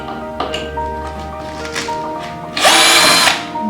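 A power drill takes screws out of the footplate of a standing frame, sounding in a few short whirring bursts with the longest, loudest burst near the end, close up and with no talk.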